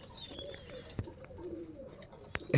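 Pigeons sit lined up in a loft in the morning, giving soft, faint coos with a few light chirps and brief rustles, no talking.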